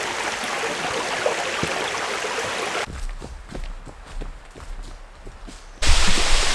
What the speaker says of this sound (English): Check out how cool the waterfall is.